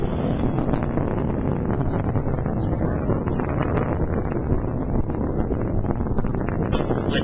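Delta rocket climbing through maximum dynamic pressure during a satellite launch, a steady broad roar with wind-like buffeting that holds at a constant loud level throughout, no breaks or distinct events.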